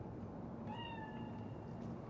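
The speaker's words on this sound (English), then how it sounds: "It's just a cat." A single cat meows in the video game Cyberpunk 2077, a clear drawn-out cry standing alone over quiet background ambience.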